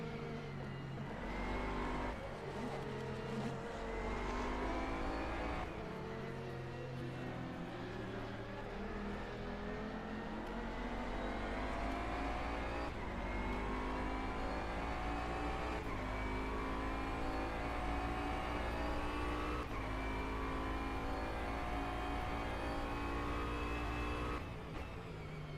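Onboard racing car number 77 at Silverstone, its engine droning loud and steady through gear changes as it closes on the back of a Ferrari, with pitch rising and falling continuously throughout.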